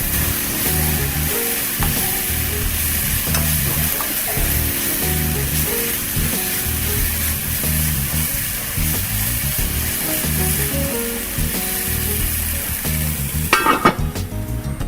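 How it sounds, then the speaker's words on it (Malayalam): Prawns sizzle and fry steadily in a pan while being stirred for chemmeen pathiri, a continuous loud hiss with periodic scraping strokes and a brief louder clatter near the end, no talking. "ചെമ്മീൻ വേവുന്നുണ്ട്."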